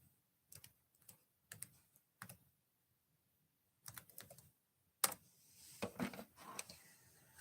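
Typing on a computer keyboard, close by, in short bursts of rapid clicking separated by pauses, then a louder, busier stretch of keystrokes with some background noise at the end.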